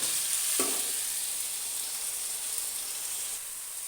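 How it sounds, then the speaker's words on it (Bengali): Chopped tomato frying with potatoes in a pan for a Bengali fish curry, a steady hiss of sizzling oil running throughout with a brief stirring scrape near the start, close and fairly quiet, no talk. "এবার দিয়ে দিচ্ছি এতে কেটে রাখা টমেটো কুচি।"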